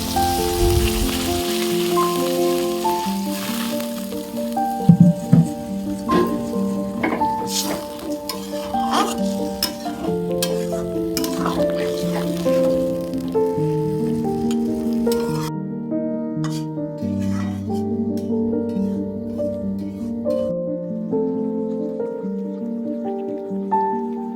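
Water hits a pan of spice-fried mixed vegetables in a Bengali panchmishali curry, giving a steady, close, crackling sizzle with bubbling that lasts throughout and settles slightly toward the end.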